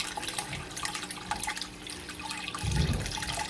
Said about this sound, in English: I'm just ready to start refilling my tank